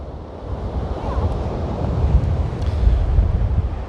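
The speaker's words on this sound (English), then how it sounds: "Oh, it is a cold and a windy one out here on the beach." Cold night wind buffets the microphone while surf rolls and washes onto the beach at Myrtle Beach, a continuous roar that gradually builds in strength.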